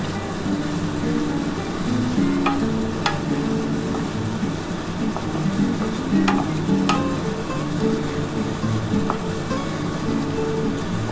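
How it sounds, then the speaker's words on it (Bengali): Masala and water for a Bengali duck egg curry stirred and fried in a pan, with a steady, dense sizzle and occasional sharp scrapes of a spatula against the pan. "এবার এই মশলার জলটার সাথে খুব ভালোভাবে কষাতে হবে।"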